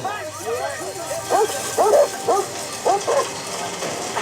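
Police dogs in the TV series Line of Duty bark repeatedly in short, sharp, excited yelps close by, with voices talking over the barking throughout.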